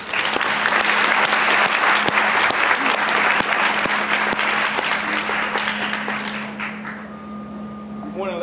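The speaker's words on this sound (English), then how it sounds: "Please give a big round of applause for Sam Lewis." Loud audience applause at a LATTC business degree presentation, dense sustained clapping that gradually fades near the end as a low hum remains underneath.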